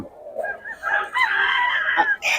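A young rooster (stag) of a named bloodline gives a short, close, loud crow with rising and falling pitch, over about two seconds.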